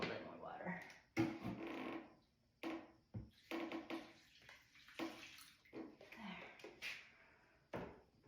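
Water splashes and pours in short uneven bursts into a crock pot for goldenrod dye in a home kitchen, heard close up with someone talking quietly around it.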